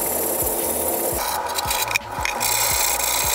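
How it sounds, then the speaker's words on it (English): Steady scratchy rasping of sandpaper rubbed back and forth over a primed 3D printed helmet, close up, in quick repeated strokes. "gonna add that acryl green on and sand it all down."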